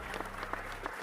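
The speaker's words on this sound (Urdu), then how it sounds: "اور پوری فضا تالیوں کی گڑگڑاہٹ سے گونج اٹھی۔" A crowd applauds at a magic show, with a steady patter of many hands clapping at moderate loudness and no voices over it.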